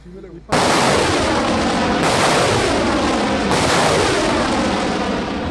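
Artillery fire pounds terrorist bases as two sustained, heavy barrages roll in loud and close after a quiet start, with booming impacts and echoing rumble filling the air and no voices.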